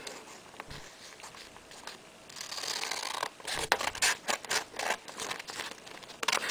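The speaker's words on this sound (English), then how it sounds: "then you can cut off this excess paper so that we have a square piece of paper" Scissors trim excess paper from a sheet to square it for an origami crane, giving a run of close, crisp snips and paper rustles that grow busier partway through, with no talking.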